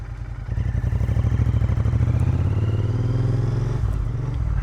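A Royal Enfield Interceptor 650 motorcycle being ridden, its steady low engine thrum and exhaust pulse running loud and close throughout with a slight rise in revs, no talking.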